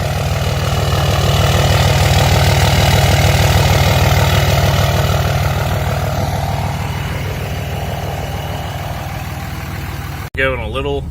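A 2003 Dodge Ram 2500 with the 5.9 Cummins diesel idles loudly with a deep, steady exhaust rumble, close and unbroken until a short knock near the end, with a voice briefly heard.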